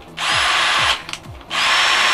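An Einhell TE-CD 18 Li cordless drill set to drill mode whirs loudly up to speed twice, with a short break between the bursts as the motor spins down and briefly pulses.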